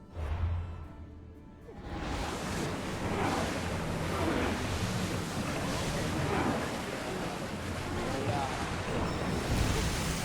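A sailing ship crossing open sea in Assassin's Creed Odyssey, with a continuous wash of waves and wind roaring steadily around the hull, loud and unbroken after a quieter start.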